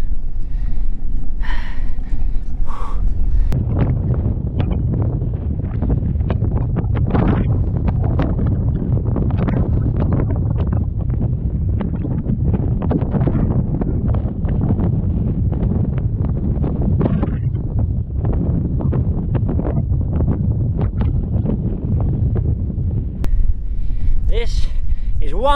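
Strong headwind buffets the microphone along a desert coast road ridden uphill at a crawl, a loud continuous low roar with gusting rustle throughout.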